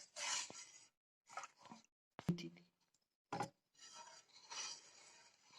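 A spoon stirring custard powder into milk in a bowl for fruit custard, heard as several short scraping and clinking bursts against the bowl, separated by brief pauses, close and moderately quiet.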